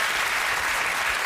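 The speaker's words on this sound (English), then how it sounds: "One clap for Rob" Brief burst of dense clapping from a television panel-show studio audience, steady and uniform throughout the short moment, with no voices.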